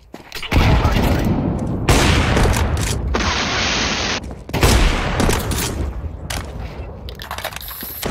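Loud, dense bursts of gunfire from the Counter-Strike video game, rapid overlapping shots in several close bursts with brief gaps, filling most of the stretch.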